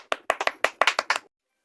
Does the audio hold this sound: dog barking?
no